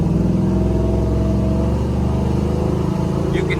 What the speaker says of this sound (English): You can hear it produces a very healthy sound from the back.